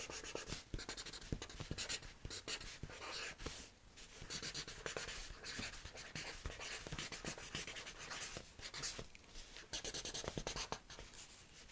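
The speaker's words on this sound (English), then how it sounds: "go ahead and write that down on the paper" Pen scratching steadily across paper during a breathing and scribbling session, a continuous close-up rasp with quick strokes and brief pauses, with no voices.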